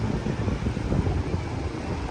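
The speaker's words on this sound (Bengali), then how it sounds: "ঢেউগুলো আজকে অনেক বড় বড় দেখা যাচ্ছে। এত সুন্দর স্নিগ্ধ ঠান্ডা বাতাস, মনটা ভরে যাচ্ছে।" Steady wind roars with the wash of large waves at Cox's Bazar sea beach on a rainy-season evening, a continuous, dense rumble without any voices.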